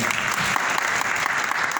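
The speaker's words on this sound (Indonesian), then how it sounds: "Tepuk tangan dulu dong." A group claps for a participant at a meeting, a short burst of continuous, even applause filling the room.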